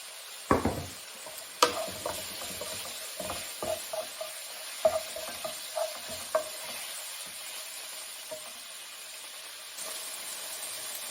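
Potatoes and meat sizzle in a pan for tacos, a steady frying hiss broken by scattered clicks and scrapes of a utensil stirring, close and fairly quiet, with no talking.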